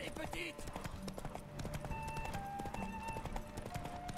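Galloping horse hooves from The Witcher 3, a steady rapid clip-clop running throughout amid game music and effects, with someone talking over it.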